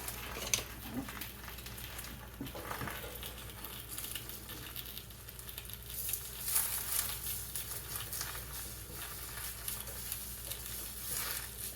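Eggs frying in a pan on a cold winter morning, a steady close sizzle and crackle running throughout, with occasional faint scrapes of a spatula and utensil clinks, no talking.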